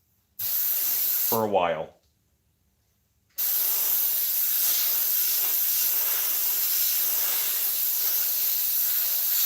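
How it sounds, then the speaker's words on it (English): Airbrush spraying paint on a prop head, a steady close hiss that stops for a moment behind a brief spoken phrase and then resumes, continuous and loud. "this airbrush has not been cleaned"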